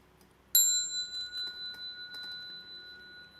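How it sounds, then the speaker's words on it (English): A single bright struck bell rings out once at a Buddhist lecture on the Avatamsaka Sutra, with a sharp attack and clear sustained tones that decay slowly with a gentle pulsing shimmer in a quiet room. "Bell sound"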